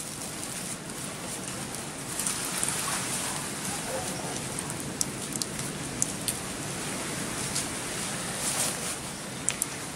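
Water splashing and trickling steadily as it drains from an automatic poultry waterer with a float valve, a continuous close, moderately loud rushing wash with a few sharp clinks.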